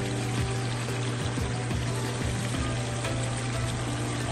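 Water pours steadily into a pot for cooking curry fish, a constant close splashing stream with a low hum underneath, and no one talks.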